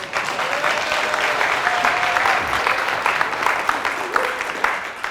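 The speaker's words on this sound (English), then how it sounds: "So give them a round of applause." An audience at a talk on psychedelic healing in African communities breaks into a burst of steady, dense applause that fills the whole stretch without letting up.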